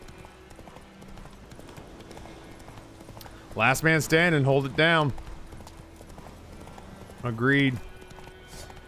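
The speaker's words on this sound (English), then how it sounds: "Ride, horse, ride." In The Witcher III: Wild Hunt, a horse gallops with a steady clip-clop of hoofbeats running under the scene. Voices speak over it in two louder bursts.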